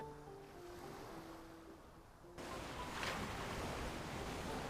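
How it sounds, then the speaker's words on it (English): Ocean waves in a video game roll and wash steadily, then jump noticeably louder halfway through as the surf surges closer. There is no talking. "The sound of the waves seems to be getting louder."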